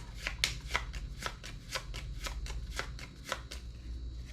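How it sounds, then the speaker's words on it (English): Quiet, close riffle shuffling of a card deck, with rapid repeated flicks and taps in a steady rhythm. "And we'll shuffle."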